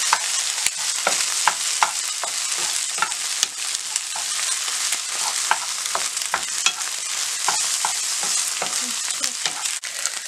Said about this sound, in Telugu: ఇప్పుడు ఇలా బీట్ చేసుకుని ఎగ్ వేసుకొని కలుపుకోవాలి.